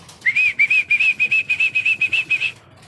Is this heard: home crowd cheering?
no